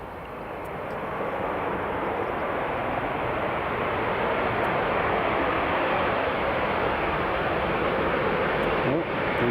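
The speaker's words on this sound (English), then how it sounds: "that is the Ryanair just touching down" A Ryanair airliner touches down on the runway at Edinburgh Airport, a loud, steady broadband roar of engines and rushing air that holds strong and even throughout.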